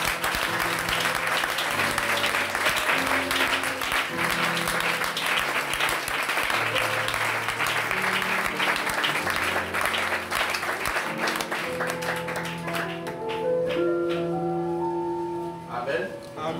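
Congregation in a French-speaking church applauding steadily, dense close clapping that continues for most of the time before thinning out as sustained organ-like tones and a voice emerge near the end.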